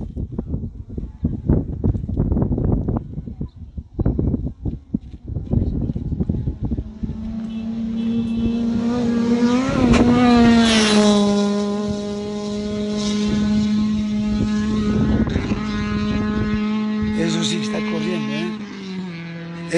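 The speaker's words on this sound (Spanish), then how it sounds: "Coche a la vista, coche a la vista, coche a la vista. Se viene, se viene, se viene. Se viene con todo." On a Bolivian national rally course, a rally car approaches from a distance with rising engine drone, roars loudly past in a sharp, pitch-shifting sweep, then fades away. Excited talk and wind noise come before it arrives.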